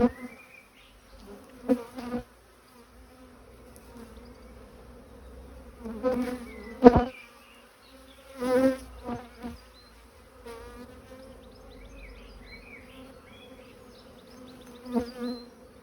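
Honeybees buzz at an open hive at a low, steady drone, with louder swells at intervals as insects pass close, and occasional soft knocks.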